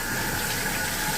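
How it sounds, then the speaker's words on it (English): Water runs steadily from a cold tap at a Coast Guard station sink, a continuous close hiss and splash with no talking. "This thing called cold water."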